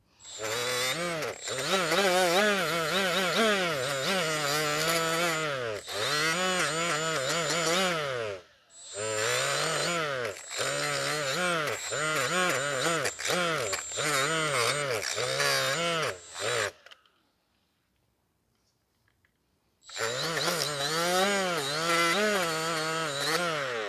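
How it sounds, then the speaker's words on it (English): Roll-lock abrasive wheel on a power tool scrubbing rust from the brake pad contact points of a caliper bracket on a 2017 Toyota Corolla 1.8, a loud, continuous whining grind in long bursts with brief pauses and one silent gap. "we're going to proceed with using the roll-lock wheel here to clean the rust on the contact points on where the pads are going to seat in."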